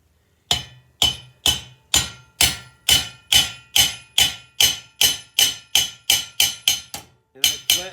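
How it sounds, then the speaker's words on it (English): A sheet metal hammer strikes a copper buck rivet on a copper rectangular garden art piece, about fourteen sharp, ringing metallic blows at a steady pace, close and loud, with a brief pause before the last two. "I flatten that buck rivet."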